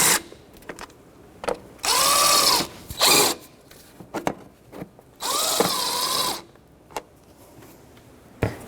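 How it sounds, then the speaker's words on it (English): A ratchet with a 10mm socket snugs up nuts on a 2006-2012 Toyota RAV4 throttle body, in several short whirring bursts separated by brief clicks and pauses, up close. "Start it by hand, put the nut on this side, 10mm socket, and just snug them up."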